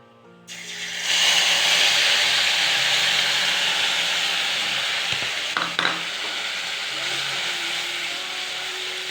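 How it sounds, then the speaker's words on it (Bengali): Onion and spice paste are lightly fried in a pan for a paneer dish, a strong close sizzle bursting up as the paste hits hot oil and hissing on steadily, with a couple of stirring knocks midway. "এবার এটাকে হালকা ভেজে নেব।"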